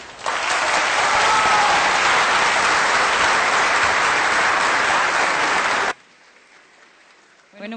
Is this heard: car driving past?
no